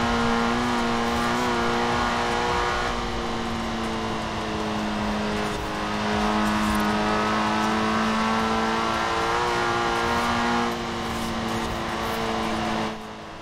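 Car engine in Forza Horizon 4 revving hard through the gears of a six-speed gearbox. The tone climbs steadily and stays loud and close for the whole stretch, with brief dips at the shifts and no talk.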